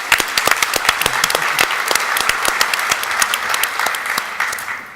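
An audience at a RetailNOW 2017 Shark Tank presentation claps in warm, sustained applause, a dense patter of many hands with a few sharper claps standing out.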